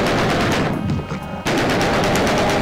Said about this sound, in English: you definitely wanna pull out your chain gun to mow these guys down